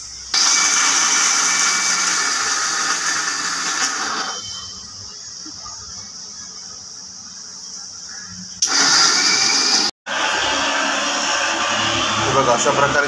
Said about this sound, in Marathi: हे सर्व आपल्याला मिक्सरमध्ये वाटून घ्यायचं आहे